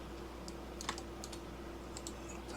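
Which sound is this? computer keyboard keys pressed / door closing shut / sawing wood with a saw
computer keyboard keys pressed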